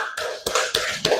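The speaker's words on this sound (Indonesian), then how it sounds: "Oke guys, tepuk tangan dulu dong buat yang udah maju tadi dong." Second-grade Indonesian language class clapping in applause for students who came to the front, with a few loud, close bursts of hand claps.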